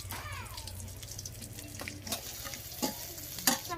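Panch phoron and chopped onion sizzle in hot oil for a Bengali village fish curry, a steady close frying hiss with scattered stirring scrapes and a few sharp clinks near the end. No voices are heard.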